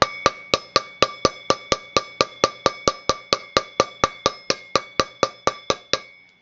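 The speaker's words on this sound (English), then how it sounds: "looking down inside, you can hear the bearing spacers rattling around inside there" Sharp metallic clicks of bearing spacers rattling inside a scooter wheel repeat at a steady, fairly quick rhythm, about three per second for several seconds, each a bright ringing tap, close and clear with no voices.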